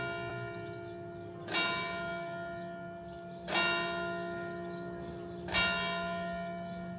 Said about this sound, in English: I thought it was best to let the church have its say with the bells.